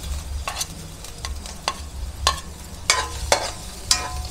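Garlic and ginger sauté in a pan for snail tinola, with a spatula giving repeated sharp scrapes and taps over a low, continuous sizzle.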